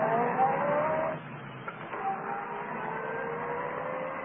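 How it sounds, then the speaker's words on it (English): Car engine sound effect from an old-time radio drama: a running motor with a brief dip, then a steady drive-away hum, band-limited and somewhat muffled. "Well, then start this car."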